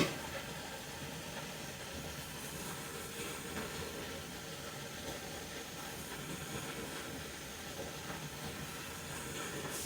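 Potatoes boil in a covered pot on the stove, a soft steady hiss and faint bubbling that carries on evenly throughout with no talking.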